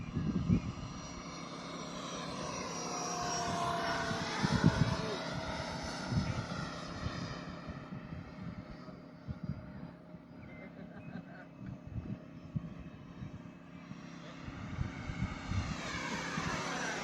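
A 3D-printed radio-controlled Grumman F9F Cougar model jet with a 70mm electric ducted fan makes a pass overhead, its high whine rising as it approaches, sweeping past and fading away outdoors, with wind noise and faint voices.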